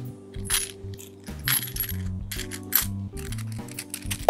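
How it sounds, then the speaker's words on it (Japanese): Coins drop one after another into a small leather zipper coin purse, giving bright metallic clinks and jingles in uneven bursts, close and clear with no talking. "小銭を20枚用意したので入れてみたいと思います。"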